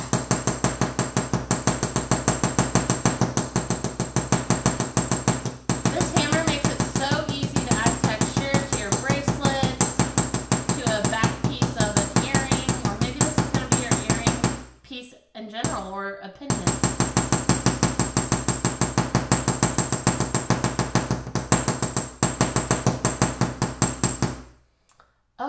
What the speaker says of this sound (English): I'm going to hammer tone this top part.